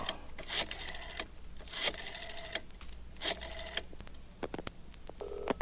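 An old-style telephone dialed for a call: three bursts of buzzy, ringing tones separated by short pauses, followed by a few faint clicks and a short tone at the end, close and clear with no talk.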